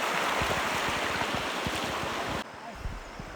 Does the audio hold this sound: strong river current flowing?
yes